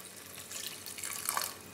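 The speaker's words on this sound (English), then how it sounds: "what we're going to add in is a touch of water, just so we can get the cooking process happening" Water poured from a tap into a pot of beetroot being cooked for marmalade, a steady close splashing stream that swells slightly louder toward the end, with no voices.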